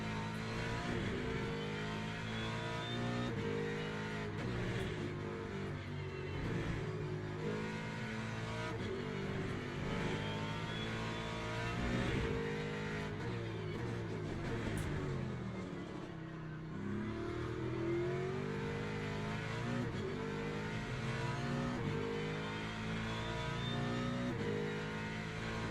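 A race car engine in the sim racing game Le Mans Ultimate, droning and revving continuously for the whole stretch, with shifting pitch as it accelerates and brakes through corners.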